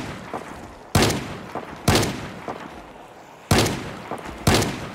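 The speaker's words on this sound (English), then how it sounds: "Turn aim and start shooting." Zombies are shot with a gun in Project Zomboid: sharp gunshots ring out four times at uneven intervals, each loud blast trailing into a short echo over a dull background hum.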